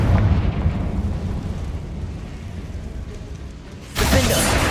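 In Hogwarts Legacy, a Confringo fire spell rumbles faintly, then bursts into a sudden loud blast near the end, a booming explosive hit following a low, muffled stretch.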